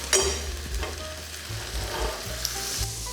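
Rice toasting in melted butter in a pan for a fennel, mushroom and leek risotto, a steady close sizzle with stirring scrapes and a few small pops throughout.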